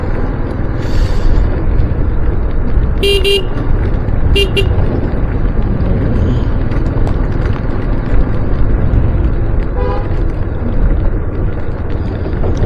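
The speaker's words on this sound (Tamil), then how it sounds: "அவனை நான் ஹார்ன் அடித்தேன் பார்த்தீங்களா" A car horn honks in two short bursts over steady road and engine noise on a food-delivery motorcycle ride in Saudi Arabia, with a fainter toot later on.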